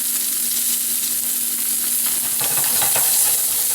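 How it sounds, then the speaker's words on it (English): Garlic sizzling in a hot steak pan over medium heat, a steady frying hiss throughout with brief louder crackles near the end. "I'm going to add my garlic to the pan,"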